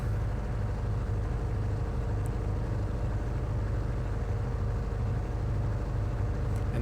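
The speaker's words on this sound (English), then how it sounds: "they definitely use like a race cars and shit for the sound effect for the truck" Small video game truck with an engine like a race car with open blowers and a turbo, a steady low droning rumble, constant and unvarying, with no talk.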